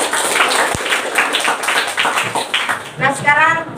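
Children in a classroom clap in a rhythmic, patterned burst after a greeting, a series of evenly spaced group claps with voices rising near the end.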